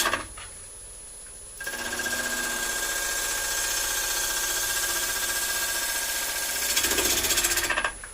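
Bowl gouge cutting a spinning wooden bowl on a lathe: a steady, close, grinding whir with a constant high motor whine, starting abruptly and holding evenly before growing rougher near the end.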